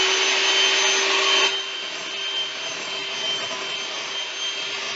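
Cloud bread batter is whipped with an electric mixer while sugar, baking soda and food coloring are added, giving a steady, loud motorized whir that drops slightly in level after a second and a half and then runs on evenly.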